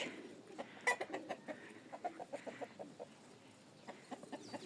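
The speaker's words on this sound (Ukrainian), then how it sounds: "Курочка в мене гуляє." A chicken clucking outdoors in snow, a run of short, soft clucks in irregular bursts with brief pauses, fairly near but quiet.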